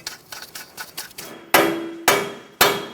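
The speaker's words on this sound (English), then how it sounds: "Using a soft face hammer, we're going to continue tapping the bolt out of the knuckle." Soft face hammer knocking a keyed bolt out of the steering knuckle on a 2012-2020 Chevrolet Sonic during front CV axle replacement: lighter taps at first, then three loud, sharp ringing strikes about half a second apart, close up.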